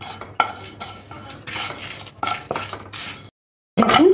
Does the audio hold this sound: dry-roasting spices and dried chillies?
yes